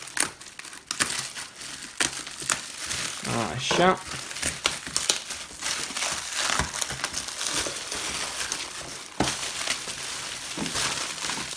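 Packaging around a keyboard is cut and torn open up close, with crinkling, crackling plastic and sharp ripping bursts in an uneven rhythm while someone speaks briefly.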